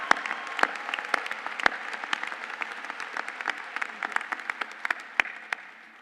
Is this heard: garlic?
no